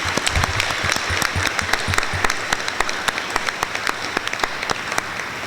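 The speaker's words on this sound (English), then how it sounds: "let's give them a round of applause" An audience at a 2015 student intern graduation ceremony gives a round of applause, a full crowd of clapping with sharp individual claps standing out, sustained and fairly close throughout.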